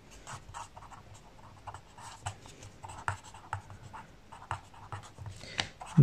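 Pen writing out a math solution on paper: quiet, close scratching strokes and small taps in an irregular, continuous rhythm, with no talking.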